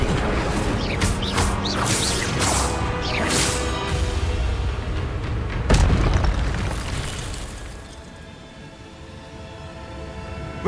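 Spellcasting in the Hogwarts Legacy game, including a fiery Incendio blast: a run of whooshing magical bursts and booms, one loud crash near the middle, then a fading rumble.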